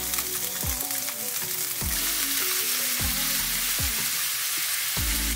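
Lemon-pepper-seasoned food sizzles steadily on a grill, a constant close crackle broken by a few dull thuds as pieces are set down or handled.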